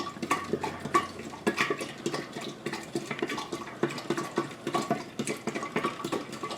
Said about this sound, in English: Now stir this all up.